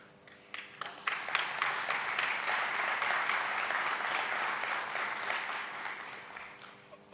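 Audience applause at a Small Business Week memorial lecture, a crowd clapping steadily after scattered first claps, building quickly then holding full and dense before thinning slightly at the end.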